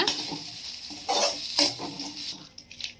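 A spoon scrapes and stirs mint chutney ingredients in a pan in a few uneven strokes, with a soft sizzle underneath and brief clinks near the end.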